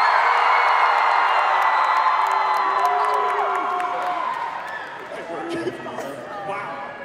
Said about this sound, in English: Cheer as loud as you can.